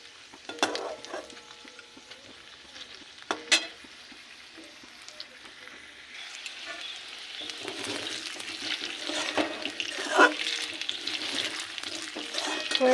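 Potatoes fry slowly in oil over a medium flame, a steady hiss and crackle with occasional stirring scrapes, growing denser and louder toward the end; no voices.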